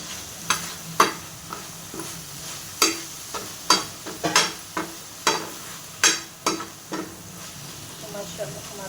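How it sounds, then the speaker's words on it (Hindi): Chicken bharta with green chillies is lightly sautéed in a pan: a spatula scrapes and taps in about a dozen sharp, uneven strokes over a soft, continuous sizzle. "बस हम हल्का सा सौते ही करेंगे। इसके ऊपर थोड़ी सी हम सब्ज़ मिर्च डालेंगे।"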